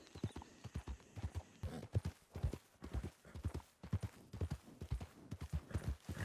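Horse hooves clip-clop in a steady, fairly quick rhythm throughout, close and clear, in the Red Dead Redemption 2 roleplay world WildRP.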